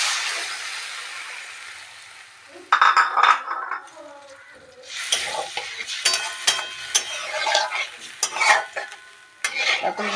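Water poured from a bowl into frying masala in a home-kitchen pan for paneer kofta, a sudden loud burst of sizzling followed by bubbling and scraping stirs with brief metal clinks.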